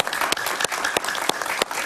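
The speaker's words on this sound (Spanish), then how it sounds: "Un aplauso para Moisés, por favor." Studio audience at a Miami television talk show breaks into applause, a dense even clatter of many hands that stays loud and steady for under two seconds.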